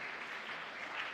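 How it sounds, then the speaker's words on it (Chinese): Church congregation applauds at an Easter worship service, a dense, even wash of many hands clapping, steady and somewhat distant for the whole moment. "我们用拍手来鼓励他们"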